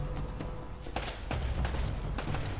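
A gunfight in Uncharted 1 gives scattered, sharp gunshot cracks at uneven intervals over a dense, noisy battle backdrop, with no voices.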